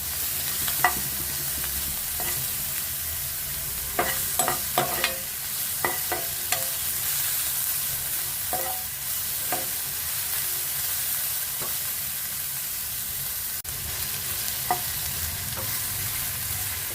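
Ingredients for catering-style jeera rice and dal fry fry with a steady sizzle in a pan, broken by a scattering of sharp stirring scrapes and taps, close and alone with no talk.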